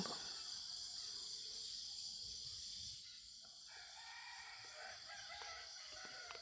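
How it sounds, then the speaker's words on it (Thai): A rooster crows in the distance amid a steady outdoor backdrop of insect chirping and bird calls. "เสียงไก่คันสนั่นเนาะ"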